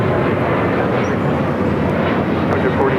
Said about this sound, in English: The Frontier flight just arriving on the north side is coming in from San Jose, California.